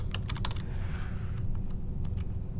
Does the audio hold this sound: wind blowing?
no